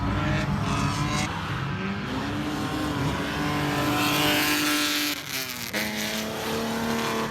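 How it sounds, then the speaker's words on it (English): A straight-piped BMW engine roars at a drift event, loud and sustained with rising revs, tire squeal and a brief dip as it passes. "Ian, how do you like the straight pipe BMW sound?"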